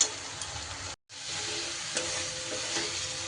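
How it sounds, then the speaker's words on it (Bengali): Spice paste with onion and tomato frying steadily in oil, a constant close sizzle with light stirring scrapes and a brief silent break near the start. "এইভাবে ঠিক ভাজা ভাজা করে মশলাটাকে কষিয়ে নিতে হবে।"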